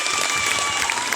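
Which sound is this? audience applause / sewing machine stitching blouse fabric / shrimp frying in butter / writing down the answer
audience applause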